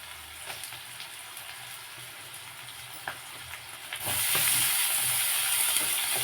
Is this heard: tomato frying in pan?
yes